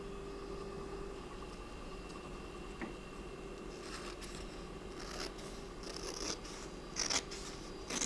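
Scissors snip through junk journal paper scraps at a craft table, several short crisp cuts clustered in the second half over a faint background hiss.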